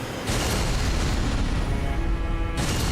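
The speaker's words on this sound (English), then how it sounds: "Holy explosion." A holy explosion spell from Elden Ring: Shadow of the Erdtree goes off as a loud, sudden blast, then a sustained roaring burst that lasts a couple of seconds before cutting off.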